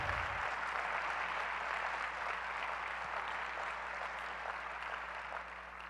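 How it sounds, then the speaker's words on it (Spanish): A congregation applauds steadily at a Spanish-language church sermon, a dense, continuous clatter of many hands that stays loud throughout and tapers only slightly at the end, with a low hum underneath. "Dale un fuerte aplauso al Señor,"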